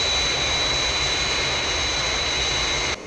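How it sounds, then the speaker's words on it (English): Fireflash airliner on its glide path toward the runway, a steady loud jet engine roar holding level throughout and cutting off sharply just before the end. "Aircraft on glide path."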